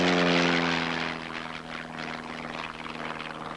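Jaguar jet aircraft spinning on purpose during flight testing, a loud steady drone with strong engine harmonics that eases slightly after the first second and holds on, with no voices.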